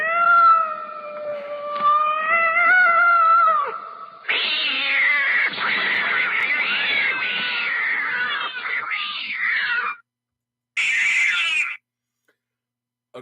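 A cat meows and yowls in long, drawn-out cries, loud and close, then a short higher squeal after a brief pause.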